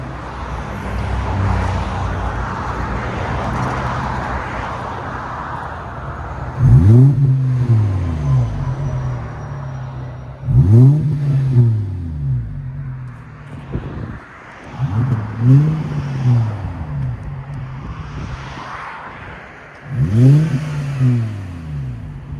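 Rev bursts from a 2011 Volkswagen Jetta 2.5L SE five-cylinder fitted with an AWE cat-back exhaust, idling with a steady rumble and then surging loudly in four or five sharp throttle blips.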